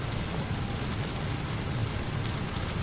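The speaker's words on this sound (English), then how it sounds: "you really hear that rain up in here?" Rain striking the cockpit window of an Airbus A321neo in Microsoft Flight Simulator, a continuous even patter and hiss with no talk, steady and fairly loud throughout.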